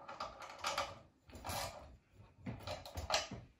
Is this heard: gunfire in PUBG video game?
no